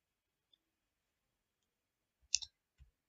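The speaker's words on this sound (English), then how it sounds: "what I will do, I would type" A few soft clicks of typing on a computer keyboard, a short burst of keystrokes followed by a single tap, quiet and close with no talking.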